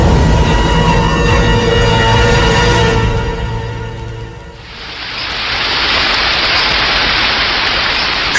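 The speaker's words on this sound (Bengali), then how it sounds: "কিন্তু তখনও সমানভাবে বৃষ্টি ঝরছে আর ঝরছেই।" Steady rain, a dense even hiss that rises out of a fading musical passage and then continues alone at a constant level.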